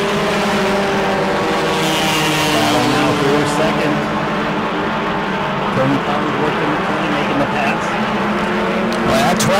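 Bomber race cars lapping at New Smyrna track, a loud, continuous roar of several engines with layered pitches shifting as cars pass, while a commentator talks over the racing.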